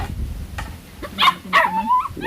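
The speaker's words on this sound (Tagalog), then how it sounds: "Maingay ang aso." A dog barks a few times nearby, short sharp yips and a brief whine, with a quiet voice in the background.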